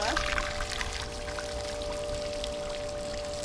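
Water pours from a hose fed by a filtration system drawing canal water on a narrowboat, a steady hissing rush with a finger over the end for pressure, under a faint background hum.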